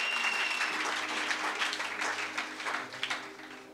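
Church congregation acclaiming the Lord with sustained applause and some cheering, a dense wash of clapping from a crowd that thins toward the end, with faint music underneath.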